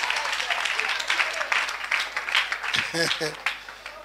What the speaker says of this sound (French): Acclamons pour ton ventre.